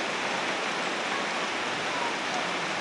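Rain falling steadily in a Ugandan village, a dense even hiss of drops on surfaces heard from a doorway, constant and fairly loud with no voices.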